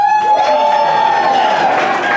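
Comedy club audience at a workshop showcase applauding and cheering, a dense, loud, continuous wash of clapping and shouts with a sustained tone running through it.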